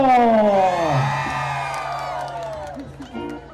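A festive crowd at a Women's Day celebration cheers and whoops loudly from the centre, voices rising in a big swell and then fading into scattered shouts and yells.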